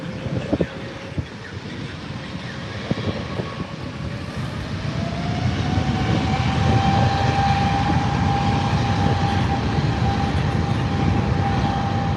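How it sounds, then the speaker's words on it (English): Jet engines of a Condor airliner at Los Angeles International Airport build from a distant roar into a loud, steady whine with a rising tonal hum, heard in the open without talk. "Here goes the Condor. Listen to those engines."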